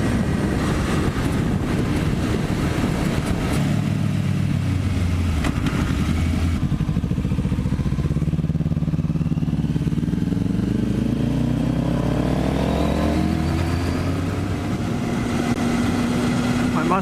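A Kawasaki Ninja 400 motorcycle fitted with a new exhaust roars at high highway speed, its engine drone loud and continuous. Wind rush runs throughout, and the pitch sweeps up and down as the revs change.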